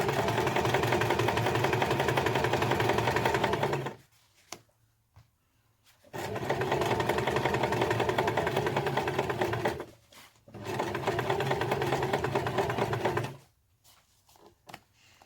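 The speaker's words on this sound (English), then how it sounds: "And then you want to just catch the edge in your straight stitches." Sewing machine running straight stitches along the edge of a fabric messenger bag, loud and close in three sustained bursts of steady whirring, each separated by brief pauses with small handling clicks.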